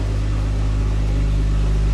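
Jeep Wrangler fitted with an aFe 3.6 exhaust idling steadily, a deep, low rumble that holds constant and loud, with no voices over it.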